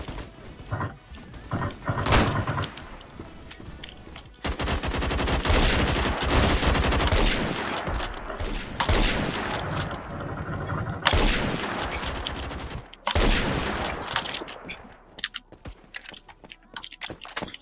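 SKS rifle gunfire in the online shooter Phantom Forces, with loud sustained bursts of shots and overlapping battle noise running almost continuously, broken by brief lulls.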